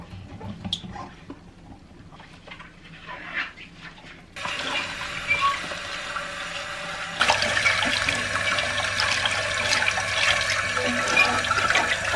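Water running from a tap while vegetables are washed, starting faint with scattered splashes, then swelling into a louder steady gush that grows stronger again partway through, no voices.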